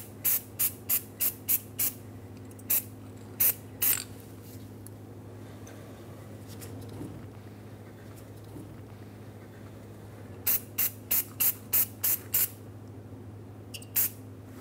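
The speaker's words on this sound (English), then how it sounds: "I'm going to coat the surface of the hub in anti-seize." Anti-seize sprayed onto the rear hub surface of a 2003-2009 Dodge Ram 2500 during an axle seal job: short sharp aerosol bursts in quick clusters at the start and end, separated by a quiet stretch of low hum.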